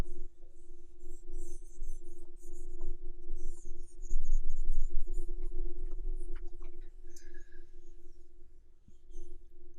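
Whiteboard being wiped clean with soft, faint rubbing strokes over a low steady hum, quiet and close, with no talking.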